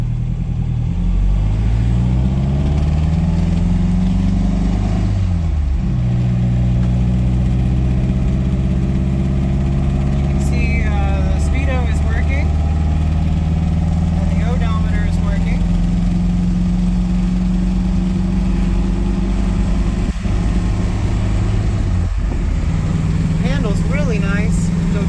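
A 1960 MGA Coupe's engine drones steadily at cruising speed around 45 to 50 mph on a test drive, its pitch rising and settling through gear changes, with people talking over it throughout.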